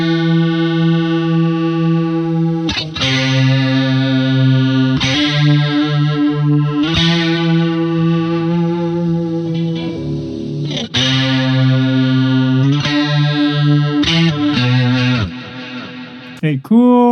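Electric guitar through the Polychrome DSP McRocklin Suite plugin on its Single Note Hero preset, ringing out distorted, chorused sustained single notes and bends in several phrases, loud and close, ending in a brief clatter, with no voices.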